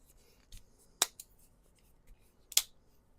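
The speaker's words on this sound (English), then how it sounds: "what we got here is a Mossy Oak 13-in-1 folding multi-tool" A Mossy Oak 13-in-1 folding multi-tool pliers is handled up close, giving a few quiet, sharp metallic clicks and snaps spaced over a few seconds against near silence.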